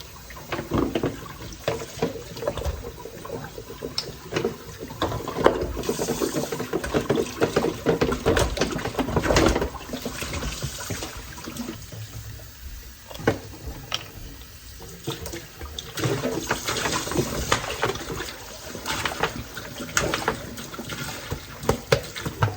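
Tap water gushes steadily into emergency water storage containers for about twenty seconds, with knocks and clatters of handling mixed in.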